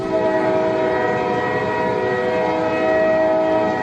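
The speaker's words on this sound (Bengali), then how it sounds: "তারা দুজনে বারাসাত লোকালে চেপে বসল" Barasat local commuter train as a Bengali horror-cartoon sound effect: a steady, loud rumble of rolling carriages with a sustained tonal horn-like drone throughout, no voices.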